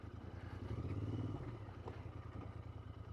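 Royal Enfield Interceptor 650 fitted with a budget scrambler kit riding off-road, a close, steady low engine rumble with a brief rise in revs, accompanied by light clattering.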